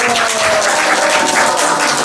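A crowd at a ceremony marking Korea's Independence Movement Day applauds, a loud, steady wash of clapping that holds evenly from start to finish.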